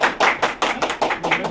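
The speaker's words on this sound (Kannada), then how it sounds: "ಅವರು ಕೂಡ ಎಲ್ಲರೂ ಕೈ ಚಪ್ಪಾಳೆ ಹೊಡಿಬಲ್ಲ" A crowd claps at a membership ceremony of the Karnataka Hoysala Vedike as new members receive appointment letters: a short burst of close, quick, uneven hand claps.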